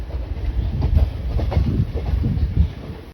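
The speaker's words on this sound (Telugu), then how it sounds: "మన ట్రైన్ అయితే పైన వెళ్తుంది కింద ఇంకో ట్రైన్ అయితే వస్తుంది" A train running on tracks through the Chennai port area, with steady rumbling and rhythmic clickety-clack close by, while another train passes on a line below.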